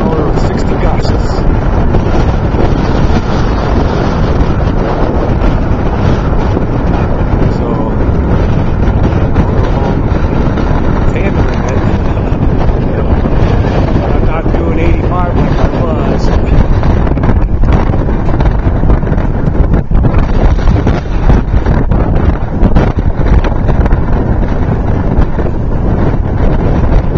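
Constant heavy headwind gusts buffeting the microphone, a loud unbroken roar of rushing air with faint voices buried underneath.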